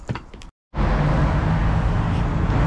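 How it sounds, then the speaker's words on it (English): Steady, loud road traffic noise from passing vehicles fills the roadside air without a break after a brief moment of silence. "Sorry about the traffic and the noise"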